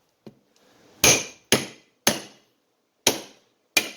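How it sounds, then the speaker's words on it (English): Graco 650 pump packings tapped into the cylinder while it rests on a piece of wood: five sharp, hard knocks at uneven intervals, close and loud, each fading quickly, with no talking. "set it on a piece of wood so that you don't damage this, and then tap it on the top."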